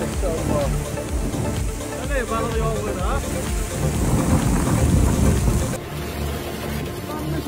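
Hailstorm in a desert region like Saudi Arabia, with dense rain and hail pattering steadily and low rumbling thunder throughout, while voices are faintly heard over the storm.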